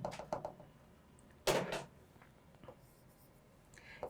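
Pen or chalk writing during a geometry lesson, faint scratchy strokes at first, then a louder brief scraping burst midway, with quiet room noise between strokes.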